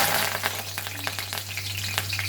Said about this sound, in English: In this oil we'll add some curry leaves.